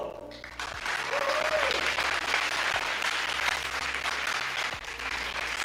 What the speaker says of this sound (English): big applause for Celio